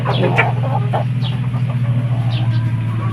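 Two hens clucking inside a large chicken coop, their short clucks and calls repeating close by over a steady low hum.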